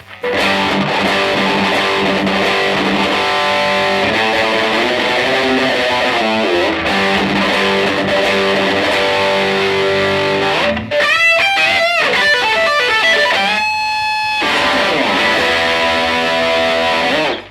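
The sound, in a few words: electric guitar through Tube Screamer stacked with distortion pedal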